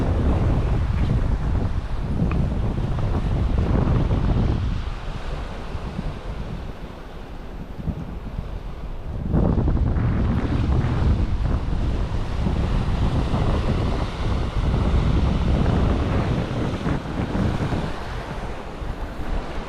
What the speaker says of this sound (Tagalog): Malakas pa rin. Matagal matapos itong amihan eh.